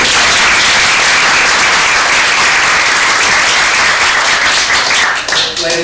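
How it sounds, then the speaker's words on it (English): A crowd gives a round of applause for a performer at a political campaign event, dense steady clapping filling the whole stretch, loud and continuous before thinning out at the very end. "Let's give her another round of applause."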